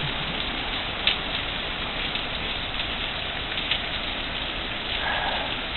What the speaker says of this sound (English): Oh, hail just picked up again.